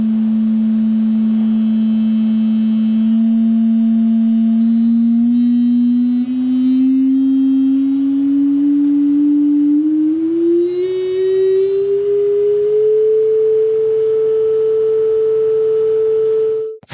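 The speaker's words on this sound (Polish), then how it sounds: "Ustawmy stałą głośność. Zmieniać będziemy tylko wysokość dźwięku." A steady pure tone holds at one level while its pitch glides slowly upward, rising in gentle steps over many seconds, then cuts off abruptly.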